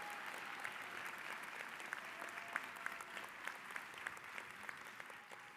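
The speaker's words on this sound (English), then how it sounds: "Give yourselves a round of applause." Graduates and guests applaud at the Yale School of Nursing 2023 commencement ceremony, a sustained dense patter of clapping heard from a distance, quiet but steady with scattered sharper claps throughout.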